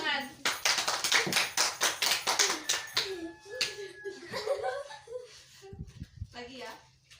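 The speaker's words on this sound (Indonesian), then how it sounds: "tepuk tangan" Children in a classroom clap their hands in a fast, loud burst of sharp, rhythmic claps lasting a few seconds, followed by scattered taps and a teacher's and kids' voices.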